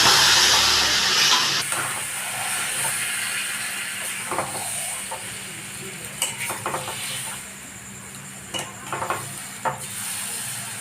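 Marinated chicken, soaked more than eight hours, goes into a hot pan for a gondhoraj chicken dish, giving a loud hissing sizzle that settles into steady frying with scattered clinks and scrapes of stirring.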